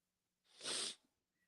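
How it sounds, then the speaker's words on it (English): A single sharp nasal sniff or snort from one person, close and brief, rising out of near silence and ending quickly. "just damn sniffling"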